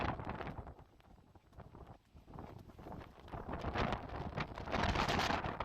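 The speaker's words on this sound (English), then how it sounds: "That's how windy it was up here in the front." Strong wind buffets the microphone on the open front deck of the Carnival Miracle cruise ship, a loud, gusty roar that surges and dips throughout, with no voices heard.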